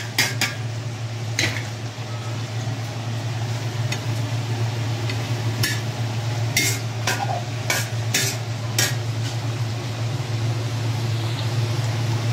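An egg being stirred into sarciado tilapia fish in a pan while it sizzles, with a steady frying hiss, repeated sharp metallic clinks of the utensil against the pan, and a constant low hum underneath.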